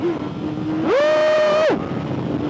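A motorcycle engine revs up to about 5,000 rpm and holds a steady high whine for almost a second before the clutch is dropped for a wheelie. The loud, close engine note then falls back to a low idle.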